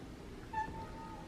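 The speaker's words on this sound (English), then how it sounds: "Hi, Molly Cat." A single short cat meow, fairly faint, over a steady background hum.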